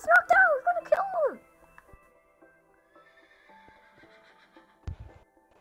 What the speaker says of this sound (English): Oh, this horse is aggressive!